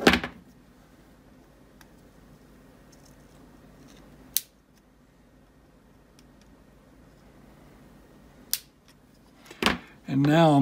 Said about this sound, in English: we need to get in here with some cutters and cut the two pins that are closest